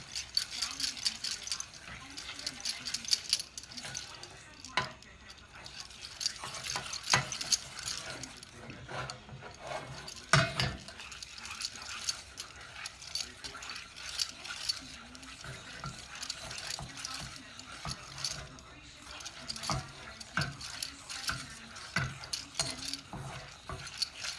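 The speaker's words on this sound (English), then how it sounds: "I'm going to stir it around in there. I'm going to keep stirring." Caramel cake mixture is stirred in a pot, a steady run of scraping, clicking strokes with a soft bubbling sizzle underneath, close and continuous with no talking.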